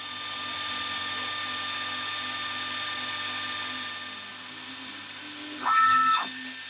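AlgoLaser Alpha MK2 laser cutter running a cutting job, a steady whirring motor and fan whine with high tonal hum, easing down before a brief louder buzzing burst near the end.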